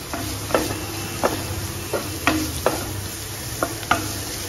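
Finely chopped cabbage tossed into onions frying in a pan for a lemon coriander soup, steady sizzling broken by about eight distinct scraping stirs at irregular intervals, fairly close, no talking.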